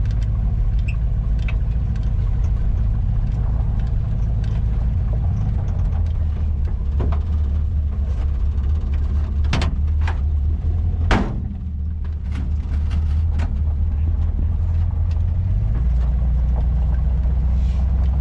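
A 1949 Ford F-6 truck engine runs with a steady, low rumbling drone, close and continuous, broken by a few sharp clicks and knocks and a brief dip in level midway.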